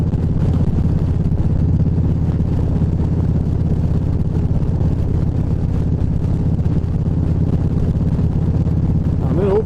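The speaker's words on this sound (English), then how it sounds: "We're going uphill, so the engine's laboring." A Vaquero motorcycle engine labors uphill in overdrive, making a steady low rumbling drone that is heavily buffeted by constant wind noise throughout.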